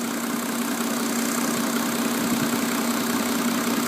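A Mercedes 350SDL diesel engine idles with fuel circulating through its system during a fuel purge and filter replacement: a steady, unbroken, fairly loud mechanical drone that holds an even rhythm throughout, with no talking.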